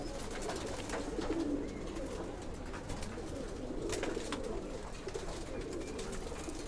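Pigeons in a coop coo softly after feeding, a low murmuring bird sound that runs steadily throughout amid light background noise.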